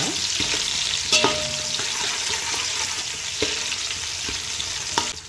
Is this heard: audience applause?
no